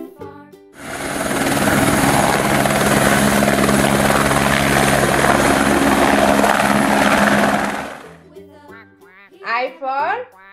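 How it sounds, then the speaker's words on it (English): A helicopter roars loud and steady for about seven seconds, with a dense whirring rotor wash that cuts off abruptly, followed by a short burst of cartoonish quacking voices. "A is for helicopter."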